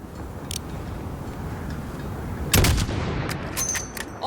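A sniper rifle fires once in Modern Warfare, a sharp loud crack with a short echoing tail, set against a steady hum of game ambience.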